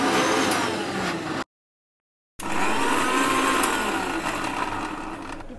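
A kitchen blender grinding garlic and chilies, a loud close motor whir running in two bursts with a short stop between, the pitch settling as the blades chew through.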